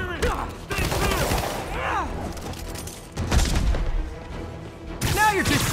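Gunfire in Marvel's Spider-Man Remastered, bursts of shots and heavy booms during a loud street fight, with shouting voices in between.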